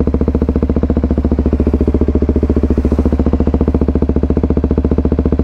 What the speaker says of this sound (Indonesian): Kondisi idolnya suaranya kayak gini, bro.